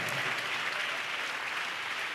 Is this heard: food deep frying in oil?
no